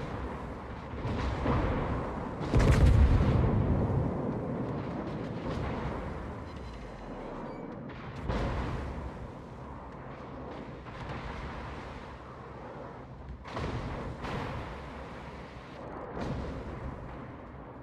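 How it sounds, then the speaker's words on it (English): Naval guns of the battleship Massachusetts fire in World of Warships, heard as repeated booming blasts spread across the stretch. The heaviest one lands early, and the others rumble at intervals over continuous battle noise. "Those are secondary guns firing at you, by the way, right now from Massachusetts."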